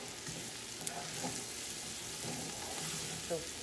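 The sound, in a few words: flour being stirred into a roux in a soup pot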